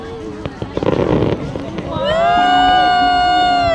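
A rapid string of New Year firecracker pops crackles at close range, then a long, rising, whistling tone takes over and holds steady, with excited voices and crowd chatter throughout.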